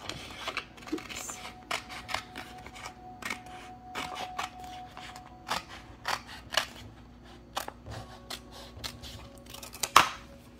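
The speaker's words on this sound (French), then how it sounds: "je vais couper entre les lignes sans couper mes chiffres" Scissors snipping through vinyl sheet between printed lines for a Cricut craft project, a series of short close crisp cuts in an irregular rhythm with faint handling rustle and no speech.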